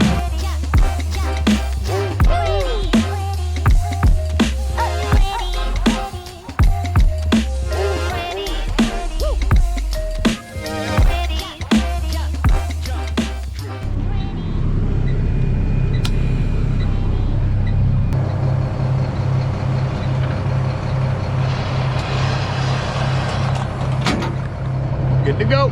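A 2000 Volvo truck drives with its engine rumbling low and loud, the revs rising and dropping through gear changes, then it settles into a steadier drone with a whine over it.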